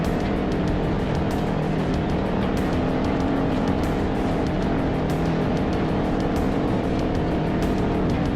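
An Ultra4 4400 race car speeding across open desert during the King of the Hammers race, with a loud continuous engine roar and rumbling, wind-buffeted drone, close and steady throughout.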